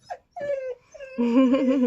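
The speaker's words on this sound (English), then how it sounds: "please ignore the dogs. The mailman is coming." Dogs indoors react to an arriving mailman with a quick high yip, then a couple of wavering whimpers and a longer whining howl, close and fairly loud.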